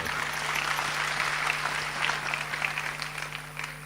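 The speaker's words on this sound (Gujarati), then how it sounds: "કીર્તિભાઈને એકવાર તાળીઓથી વધાવો સાહેબ." An audience applauds, a dense wash of clapping that carries on steadily for several seconds and tapers slightly toward the end, moderately loud with no clear talking.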